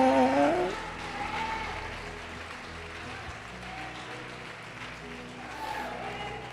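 A church congregation applauds in a steady, dense wash of clapping that fills the hall throughout, with a voice briefly heard over it at the start.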